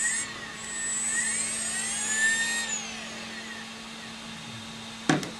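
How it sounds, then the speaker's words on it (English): An electric longboard motor on a DIY build spins up when triggered, giving a loud rising whine with sweeping tones that holds for a few seconds and then winds down, ending with a sharp click. "when I push down on the trigger, it spins the motor"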